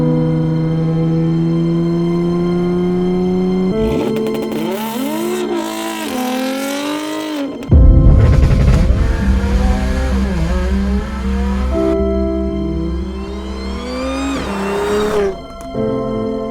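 A B8.5 Audi S4 engine revs hard and rises in pitch through several gear-like sweeps, loud and close, with a sharp burst of roaring acceleration midway.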